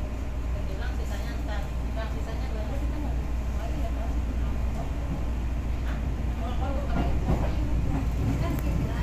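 Commuter Line train on the Red Line near Sawah Besar station, a steady rumbling interior hum with faint rhythmic rail clatter and muffled passenger voices in the background.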